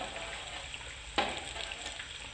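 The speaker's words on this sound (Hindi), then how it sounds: "जैसे कि मसाला भी भुन रहा है" Spices and onion fry in a pan for matar pulao, a steady close sizzle with a sharp crackle burst partway through, with no voices.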